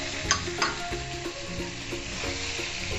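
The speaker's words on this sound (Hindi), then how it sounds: "इनको हम वीवर्स तकरीबन 3 से 4 मिनट के लिए मसालों के साथ फ्राई करेंगे" Potato slices fry with spices in a pan, giving a dense, even sizzle with a few sharper crackles and spatters near the start, close up and steady, with no talking.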